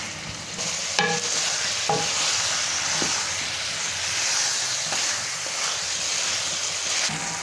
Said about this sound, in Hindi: लहसुन अदरक के पेस्ट डालने के बाद इसको मैं थोड़े से टाइम के लिए भूनूँगा दोबारा अच्छी तरह से।